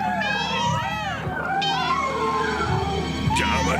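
A cartoon cat meows and caterwauls repeatedly in rising, wavering cries, loud and close, with other animated sounds and voices mixed around it.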